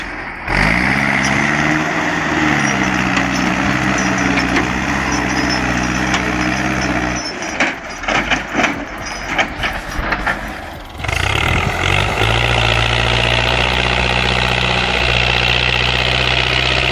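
A Rakovica 65 tractor's engine drones loud and steady while its wheels spin in snow, turning rougher and uneven for a few seconds in the middle before the heavy, even roar returns. No one speaks.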